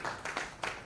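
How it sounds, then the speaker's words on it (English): Brief audience applause for a panelist joining a talk event, a steady wash of many hands clapping for under a second. "A round of applause is all right."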